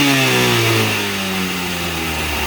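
A previously seized ATV engine runs at high revs, then slowly drops back toward idle, a loud, steady, close mechanical drone with no talking.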